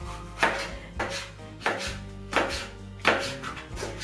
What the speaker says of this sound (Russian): Беру большую миску и начинаю нарезать все соломкой.